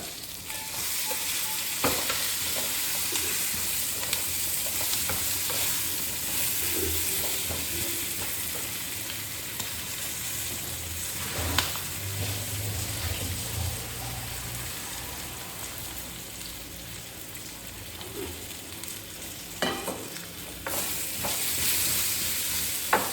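Spices and Kashmiri dried chilli powder frying in oil, a steady close sizzle with stirring scrapes throughout, some sharper crackles and clinks near the end.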